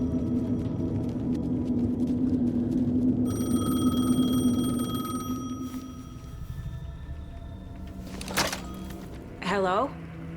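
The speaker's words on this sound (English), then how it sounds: "The payphone was ringing." A payphone rings in the video game Alan Wake II, a bright, evenly repeating electronic ring over a deep rumbling ambience that fades, followed by a couple of sharper mechanical clunks.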